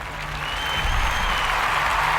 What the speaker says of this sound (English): Thank you, Hopper, for the applause.